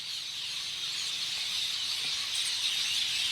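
A dense, continuous wall of shrill chattering from a huge flock of birds, loud and unbroken from start to finish.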